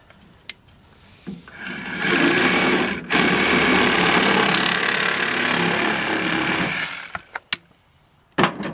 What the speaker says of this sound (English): I'm just gonna use my hacksaw again and